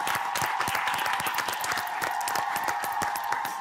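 Studio audience applauding a contestant on a celebrity cooking competition, a dense, steady wash of many hands clapping at close range throughout, with no one speaking.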